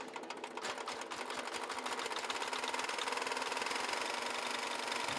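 A 6.5 horsepower diesel engine drives a wood chipper, chugging in a fast, even rhythm. The loud, steady mechanical clatter runs throughout with no voices.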